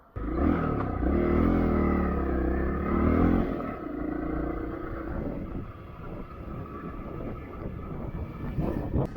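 Honda motorcycle ridden along a rough road toward a dirt track, a steady loud engine drone with wind that eases after a few seconds and continues lower and more uneven.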